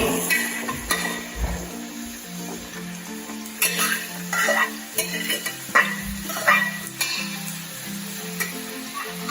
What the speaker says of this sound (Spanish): Cuando se caliente el aceite, que se calentará enseguida, ponemos unos ajetes tiernos, vamos a poner todos